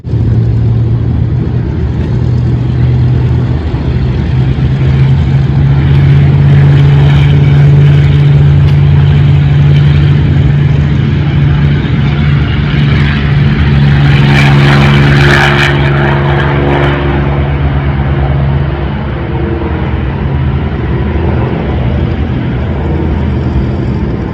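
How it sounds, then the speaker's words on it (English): A single Rolls-Royce Merlin piston engine on a Lancaster bomber runs loud and close, a steady heavy drone that holds for the whole stretch with no voices. "This is the sound of just one Merlin."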